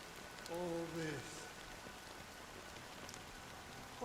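Steady rain patters throughout, a constant hiss of drops in the video game Honkai: Star Rail, with a short tonal chime near the start under the downpour.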